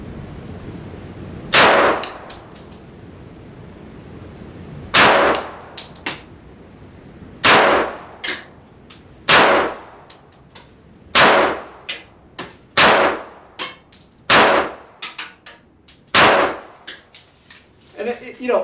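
Evenly paced shots from a small S&W M&P Shield Performance Center pistol ring off steel targets about seven yards away, roughly ten sharp cracks with a metallic clang trailing each one and short pauses between them.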